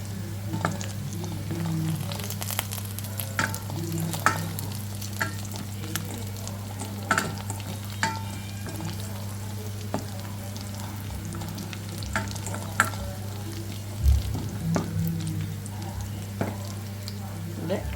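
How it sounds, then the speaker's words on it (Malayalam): Small onion, cashews and raisins fry in ghee for Sunday ghee rice, a steady close sizzle with occasional spoon scrapes and stirring knocks throughout, no talking. "കുറച്ച് നെയ്യ് ഒഴിച്ച് അതിലേക്ക് ഒരു ചെറിയ സവാള ഇട്ടിട്ടുണ്ട് അതൊന്നും മൂത്ത് വരുന്നുണ്ട്"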